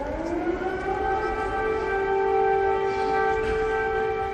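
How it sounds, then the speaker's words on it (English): An air raid siren wails steadily over Kyiv's streets, a loud sustained rising tone with layered harmonics that holds for the whole stretch, alone and without voices. "This siren triggered by a Russian fighter jet taking off in neighbouring Belarus."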